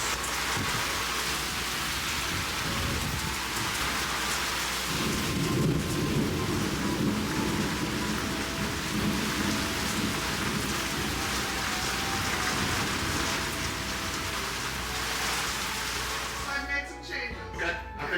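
A thunderstorm near a home where a tornado touched down brings steady heavy rain and deep rolling thunder, loud and continuous throughout, with a brief clatter near the end.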